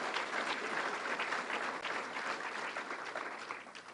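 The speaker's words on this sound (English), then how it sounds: "That's worth a round of applause." Crowd applause at the opening of the 172nd New York State Fair, a dense, sustained wash of clapping from a large outdoor audience, fairly distant and even throughout.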